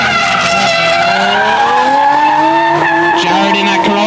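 A Toyota Corolla drift car slides through a run at a drift event, its tires squealing loudly and continuously with rising and falling pitch over the engine.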